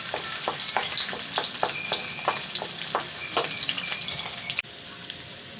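Chopped garlic and onion fry in a hot pan for chicken liver and heart adobo, giving a steady close sizzle with occasional stirring scrapes, then cutting off abruptly near the end.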